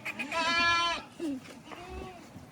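A goat bleats loudly and close by, a long wavering harmonic call followed by shorter, fainter bleats, with other goats on a farm.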